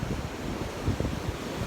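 Steady gusty beach wind buffeting the microphone, with a low rumble like surf beneath it, continuous and fairly loud.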